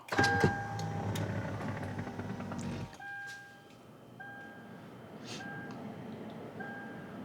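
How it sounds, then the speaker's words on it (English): A Lexus GX being switched on: a loud mechanical whir and clunks for about three seconds, then a quieter cabin with a series of short electronic chimes repeating at intervals. "Turn on the car."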